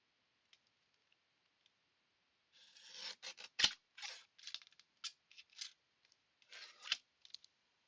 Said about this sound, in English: I'm going to trim that side down.